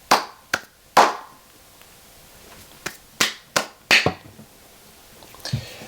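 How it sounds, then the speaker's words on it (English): Eight or nine sharp, separate handclaps at an uneven pace, loud and close, played as an NPC clap sound effect with no voice over them. "I think it's time for NPC clap."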